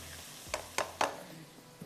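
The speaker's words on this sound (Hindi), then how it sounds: "फ्राई हो गया मसाला।" Masala for mutton darbari frying in a pan, a soft sizzle with a few distinct stirring clicks and scrapes, quiet and close.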